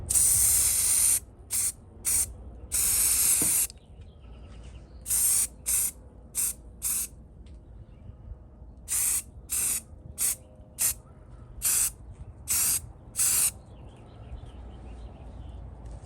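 Bursts of black satin aerosol spray paint hit a Mercedes-Benz W123 door wing mirror part. The hissing sprays are close and loud, some long and many short, repeated in an uneven rhythm with quiet gaps between them.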